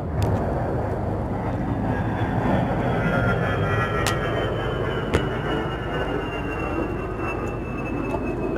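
A jet aircraft passes overhead as a steady, loud engine roar that drifts slowly in pitch, with radio chatter in the background.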